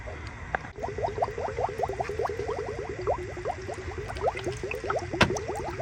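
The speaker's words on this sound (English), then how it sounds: "So I'm gonna pour this water in there" Water glugging from a gallon jug into the radiator of a 1.5T Honda Accord during a coolant flush, a rapid rhythmic train of bubbling gulps, close and steady for several seconds.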